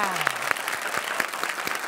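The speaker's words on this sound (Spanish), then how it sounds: "Un aplauso para Alicia." A television studio audience breaks into lively applause, with dense clapping and a few sharper individual claps standing out, while a presenter's voice carries over it.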